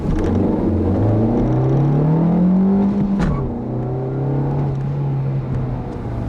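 A 2015 Nissan Versa S with a 5-speed manual accelerates on a road test drive, the engine note climbing steadily, dropping at a gear change, then pulling again with a steady hum and road rumble.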